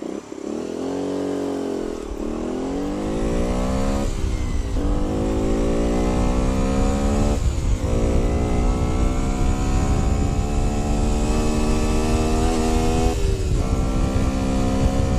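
A Bullit Hero 50cc four-stroke motorcycle engine revving hard while riding, loud and continuous, the pitch climbing through repeated gear changes with brief dips between each rising sweep.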